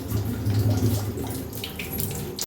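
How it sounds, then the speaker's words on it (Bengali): A kitchen tap runs steadily while meat is washed under it, a close, continuous splash of water with small handling noises, ending in a brief abrupt clunk, with no talking. "মাংস টাংস ধোয়া হয়ে গেছে"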